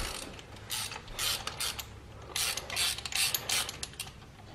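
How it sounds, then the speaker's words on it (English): A socket wrench ratchet loosening a bolt, heard as several short bursts of rapid metallic clicking separated by brief pauses, close and clear with no talking. "you just throw your socket down there and loosen him off"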